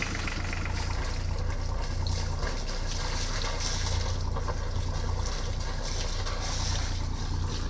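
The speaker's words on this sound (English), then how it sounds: "Lots of water coming out there" Cooling water splashes and gushes continuously from a sailboat's exhaust outlet, mixed with the low hum of its running diesel engine nearby.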